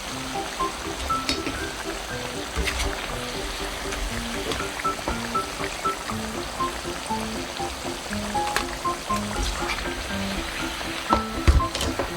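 Sweet potato chunks frying in oil in a single pan for candied sweet potatoes give off a dense, steady sizzle and crackle throughout, with faint tonal sounds in the background.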